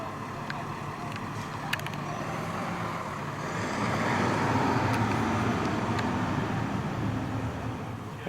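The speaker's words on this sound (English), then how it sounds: "I assume tow trucks then." Tow trucks roll past on a road, a steady rumbling engine drone that swells as they pass, with a few faint clicks and beeps. No one speaks over it.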